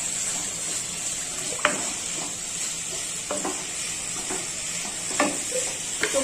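Potatoes and fish curry cooking in a pan with water added, a soft steady sizzle and bubbling with occasional light clinks and stirring taps, fairly quiet and without speech.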